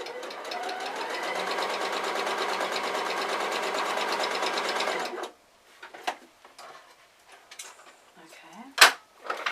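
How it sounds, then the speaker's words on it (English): A sewing machine stitches around the bottom of a felt character-face coin purse in one steady, fast, close run of rapid needle chatter lasting about five seconds, then stops, leaving faint handling clicks and soft knocks. "I'm going to stitch just around the bottom here."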